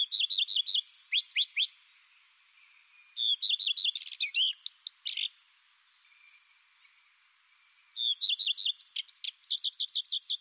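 A common redstart sings outdoors in clear, separated phrases of quick high chirps and trills, with quiet pauses between bursts and no voices.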